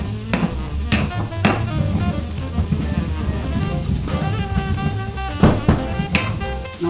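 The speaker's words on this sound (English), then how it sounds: "I'm going to use pink and green peppercorns. So I'll put a teaspoon-ish, more thereabouts of each, and grind them up." Pink and green peppercorns are ground by hand, giving close, crunchy cracking and rhythmic scraping with a few sharp knocks at the start and end.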